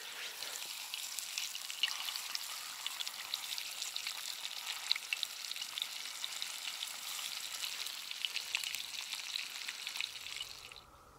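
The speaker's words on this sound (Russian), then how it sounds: "Посыпал солью, обвалял в муке. И на сковородку." Salted, flour-coated fish fries in a pan on a fishing trip, giving a steady, even sizzle with small crackles and pops that runs without a break and fades out at the end.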